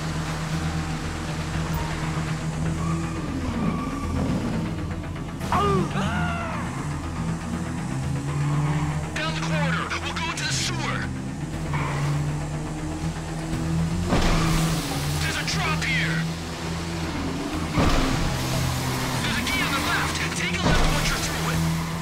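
Motorbikes ridden through mud in GTA 5 on PS4, engines droning steadily with occasional revving swells, heard under ongoing talk.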